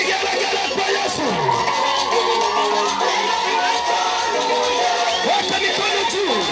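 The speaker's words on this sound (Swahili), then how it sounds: "Vigelegele kwa Yesu." A church congregation ululates and cheers together during worship, a dense sustained wall of high trilling voices and shouts that stays loud and unbroken throughout.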